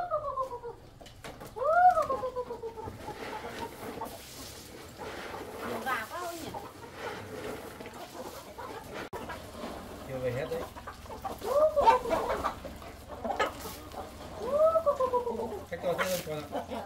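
Chickens cluck and call several times at varying distances around a camp where a father and son feed them, with people talking throughout.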